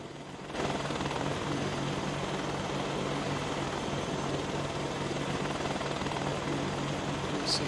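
An Apache helicopter in the video game DayZ, a steady loud rotor and engine drone that holds constant after a brief quiet start, with a faint high tone near the end.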